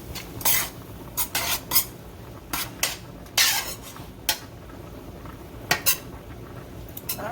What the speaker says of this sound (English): So I'm going to stir that around and see if that's enough.